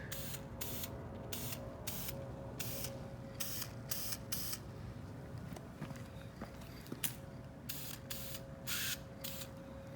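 Aerosol spray paint hisses in repeated short bursts, about a dozen light passes applied to Corvette C8 engine parts, with a steady background hum between bursts and no talking.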